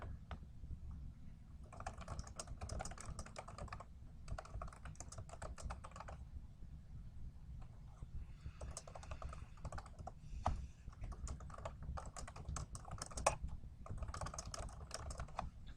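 Quiet computer keyboard typing while entering numbers into an Excel spreadsheet comes in several short bursts of rapid key clicks separated by pauses, all over a steady low background hum.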